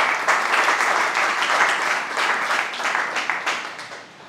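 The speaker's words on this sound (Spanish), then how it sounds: "Un aplauso para Francisco Medina," A roomful of people at a book presentation burst into steady, dense applause for a guest, close and lively, holding strong before easing slightly toward the end.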